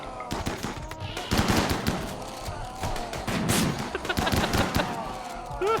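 Chain shotguns blasting during a RimWorld battle, a dense run of rapid overlapping gunshots firing continuously at close range, with heavier bursts mixed in and no talk over them.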